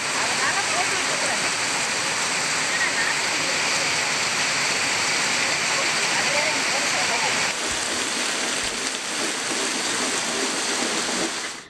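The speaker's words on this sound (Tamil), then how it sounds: "மாலையில் மழை வெளுத்து வாங்கியது" Heavy evening rain pouring down in Rasipuram, Namakkal district, Tamil Nadu, a dense, steady roar of water hitting surfaces without letup, loud and close, with voices faintly audible beneath.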